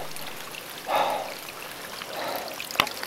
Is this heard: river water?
yes